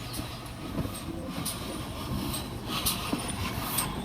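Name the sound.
railway locomotive and train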